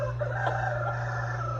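Broody hens, puffed up with feathers raised, make a steady low clucking that runs continuously under a constant background hum, with a few slightly louder clucks standing out.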